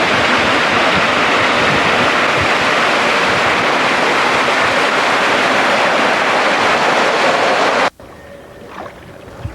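A waterfall beside a river pours with a loud, dense, continuous roar that cuts off abruptly near the end, leaving quieter ambience.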